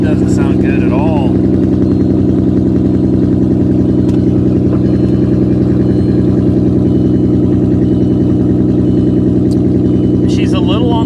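An Audi A6 Avant Quattro engine runs steadily at idle with a heavy, pulsing rumble, loud and close by, with its check engine light on, and short bursts of talking over it.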